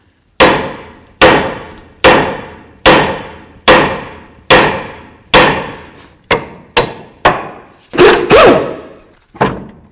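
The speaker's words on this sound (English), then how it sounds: "I'm just going to put my nut on here so I can get ready to separate the ball joint from the lower control arm." A hammer repeatedly strikes to split the ball joint from the lower control arm on a 1998-2002 Honda Accord during a front wheel bearing and hub job: about a dozen loud, sharp metallic blows, evenly spaced at first, then quicker near the end.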